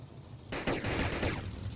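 Gunfire in a Roblox zombie game starts suddenly after a quiet moment, a rapid, dense burst of shots that keeps going at a steady loud level to the end.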